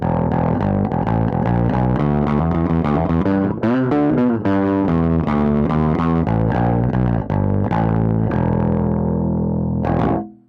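A distorted Sandberg bass guitar plays a steady riff of gritty, sustained notes for about ten seconds, loud and close, with no talking.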